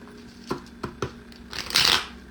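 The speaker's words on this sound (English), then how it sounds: "we're supposed to be shuffling this deck" An old, worn deck of tarot cards is shuffled by hand in a few sharp riffling taps followed by a longer flurry of cards, close and fairly quiet with no speech.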